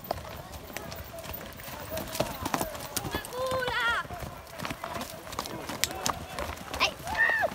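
Horse hooves clip-clopping steadily on a path outdoors during a group horse ride in the Serre Calabresi, Italy, with voices talking over them and an occasional whinny-like call.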